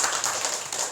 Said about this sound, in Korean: 우리 박수 한번 쳐드립니다